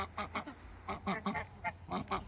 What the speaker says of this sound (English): He's just squawking